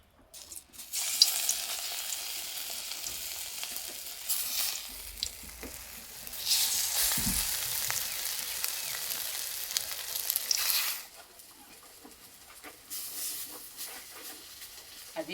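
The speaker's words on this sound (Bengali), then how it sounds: "আর দিয়ে বড়াগুলো একটু বড় বড় করে ভাজবো।" Onion-stalk fritters sizzle in well-heated oil, bright crackling hiss rising in bursts as batter drops in, then settling into a softer, steady fry, close and alone without talk.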